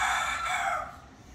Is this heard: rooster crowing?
yes